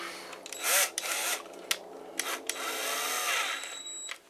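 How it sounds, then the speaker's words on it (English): A power drill drives a bit into model-kit parts in short spurts, whirring up and stopping several times, then running longer in one steady burst, close by with no talk. "I'm going to get my bigger drill out for this."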